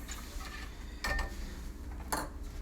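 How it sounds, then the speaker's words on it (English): A spoon stirs almond and vanilla extract together in a bowl while making tapioca pudding, giving a couple of sharp clinks against the bowl over a quiet kitchen background. "I'm gonna mix that together."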